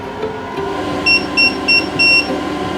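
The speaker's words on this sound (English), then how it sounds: "Oh, now it's beeping. Why are you beeping?" Four short, high electronic beeps from a 12V diesel heater in a box truck camper sound in a quick series over a steady low hum, the last one held slightly longer.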